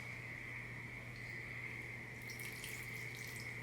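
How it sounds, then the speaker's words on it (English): Water pouring from a small square jar into a potted plant indoors, a soft continuous trickle over a steady electrical hum, with a brief splashier stretch near the end. "I'm gonna go ahead and just water this."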